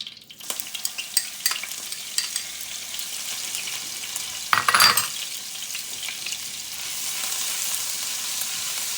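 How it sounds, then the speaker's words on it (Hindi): Garlic ginger paste hitting hot oil reused from frying koftas, crackling and sizzling steadily while a utensil stirs and scrapes the pan, with a sharper burst of spattering midway. "इसमें लहसुन अदरक की पेस्ट ऐड कर देंगे"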